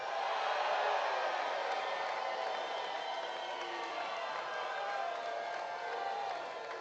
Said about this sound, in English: you hear the crowd behind us. They are going absolutely crazy